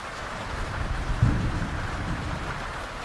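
Thunderstorm with heavy rain at sea in the sailing game Sailwind, a constant wash of rainfall with a low thunder rumble swelling near the middle, no voices.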